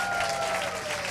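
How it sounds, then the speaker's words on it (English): A live audience at a comedy show claps in a short, even burst of applause, steady throughout with no voices over it. "Give them a round of applause, everyone"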